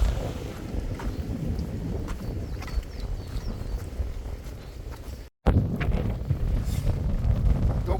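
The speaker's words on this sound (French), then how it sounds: "Donc là, énormément de vent," Strong wind buffeting the microphone outdoors, a loud rough rumble with gusty surges and a brief dropout partway through, continuing without speech.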